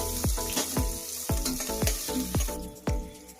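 Chopped onions fry in hot oil for a chicken gravy, crackling steadily up close with repeated sharp stirring knocks of a spoon against the pan.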